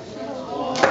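A sharp cracking smash of a banana frozen in liquid nitrogen bursts out near the end, brief and crisp, after a stretch of background noise and faint voices.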